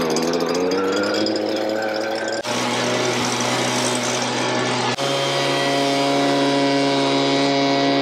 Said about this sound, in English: So there's another 18 minutes of just grinder.